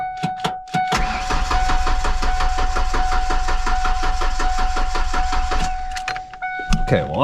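A Ford Fox Body engine cranking steadily for about five seconds with a rapid rhythmic churn that never catches, loud and close, with a few clicks before and after.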